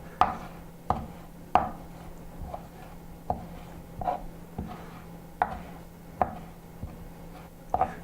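A knife chops fresh cilantro on a cutting board in steady, crisp strokes, about ten close, distinct thuds spaced under a second apart, with no one talking.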